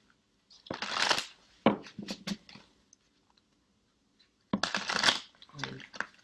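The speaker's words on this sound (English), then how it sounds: "After each reading I shuffle the cards offline, but I always then shuffle online as well." Two quick bursts of a card deck being riffled and bridged, crisp and close, separated by a few seconds of near silence.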